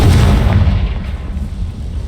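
A booming Confringo blasting-spell explosion in the Hogwarts Legacy video game, a loud, deep blast at the start that rumbles and fades over about two seconds.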